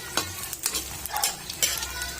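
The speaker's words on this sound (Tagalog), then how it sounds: "Prito natin yung squid ball para hindi siya malansa." Squid balls sizzle in hot oil close up, with bursts of crackling and scraping stirs breaking through the steady frying hiss.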